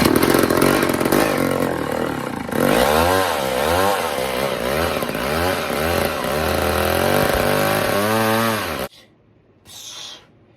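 A vintage bow saw chainsaw fires up and runs loud in a smoky shop, its engine note rising and falling through several revs for about nine seconds before cutting out, followed by a short faint burst.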